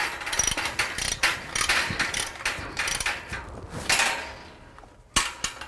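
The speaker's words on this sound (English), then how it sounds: "I'm using a box wrench and a ratchet" A box wrench and ratchet tighten a nut on a panel of a security cage for tools, giving a close run of quick metallic clicks and ratcheting bursts with short pauses, ending in a couple of sharp snaps.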